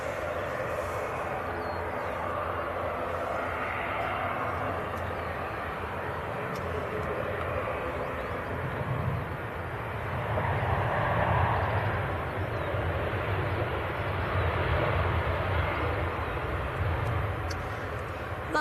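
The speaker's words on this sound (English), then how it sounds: "That is Ryanair from Copenhagen" Ryanair airliner arriving at Manchester Airport from Copenhagen: a moderate, continuous engine rumble and whine that swells slightly midway and stays steady without talk.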